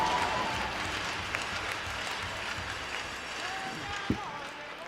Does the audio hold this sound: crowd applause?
yes